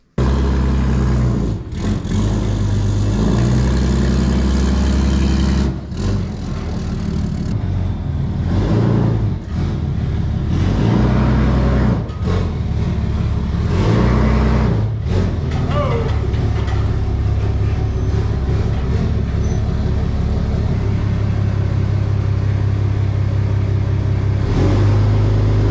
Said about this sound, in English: I'm gonna back this trailer in.